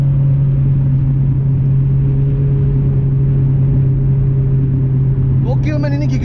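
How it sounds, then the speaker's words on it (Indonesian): A Toyota MR2 Gen II W20 accelerates in second gear with a loud, steady engine drone from inside the cabin, holding a constant low tone, and a voice briefly cuts in near the end. "Kita masukin kedua. Kita mulai gas. Tuh gigi dua dia panjang amat."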